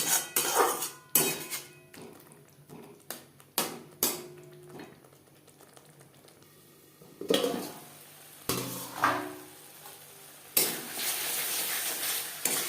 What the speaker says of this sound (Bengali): 3-4 মিনিট লো টু মিডিয়াম ফ্লেমে মশলা কষিয়ে নেব।